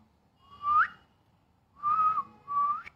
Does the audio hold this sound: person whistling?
yes